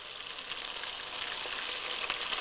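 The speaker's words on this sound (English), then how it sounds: "Now, because it has got more moisture contents, you can see the oil spluttering a lot." A batch fries in oil for Indo Chinese fried rice, the oil spluttering in a steady, fairly loud crackling sizzle with scattered pops.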